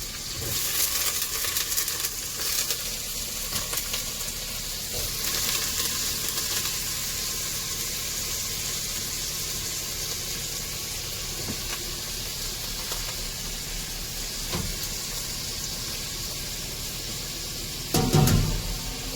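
Potato and eggplant pieces sizzle in hot oil with cumin seeds, a steady dense hiss of frying that stays even throughout, with a brief louder burst of crackle near the end and no voices.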